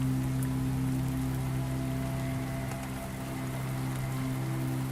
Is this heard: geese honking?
no